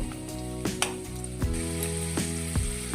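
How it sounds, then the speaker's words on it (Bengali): Potatoes fry in hot mustard oil for a chicken curry, a dense close sizzle running throughout, punctuated by a few sharp metallic knocks and scrapes of a utensil against the pan, with no one speaking. "এবার আলুগুলো ভেজে নেব।"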